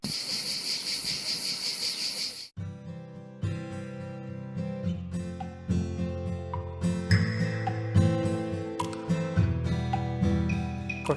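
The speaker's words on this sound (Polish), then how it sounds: "Cykady budzą się rano i cichną dopiero po zachodzie słońca." Cicadas in Paphos, Cyprus give a dense, loud, steady buzzing drone for about two and a half seconds, then stop abruptly as music takes over for the rest.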